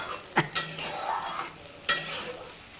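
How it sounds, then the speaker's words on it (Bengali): Tomato and green chilli paste for paneer butter masala being stirred and sautéed in a pan, a few sharp spoon scrapes and clinks over a soft steady sizzle, close by with no talking. "ওটাকে ভালো করে দিয়ে পরিমাণ মতো তারপরে এবার কষিয়ে নেব কষিয়ে নিচ্ছে এবার"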